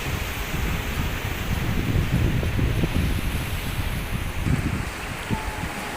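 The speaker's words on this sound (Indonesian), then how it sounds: "Pantai yang bersih dengan laut yang membentang biru" Surf breaks continuously on the beach at Cemara Indah in Aceh Timur, a broad steady wash of waves with wind rumbling across the microphone throughout.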